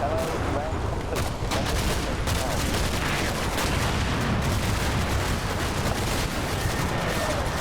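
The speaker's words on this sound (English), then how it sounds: "More grenades going out." Grenades and gunfire from the Combat Mission: Battle for Normandy war game keep up a dense, continuous rumble of explosions and crackling shots for several seconds, with a voice talking underneath.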